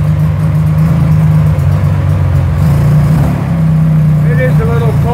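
A motor trike engine, still cold right after starting, holds a steady, loud, low idle drone throughout.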